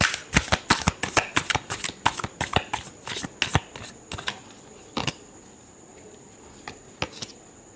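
Tarot cards are shuffled with a quick run of crisp riffling snaps that slows into a few scattered, separate card flicks, close and fairly quiet.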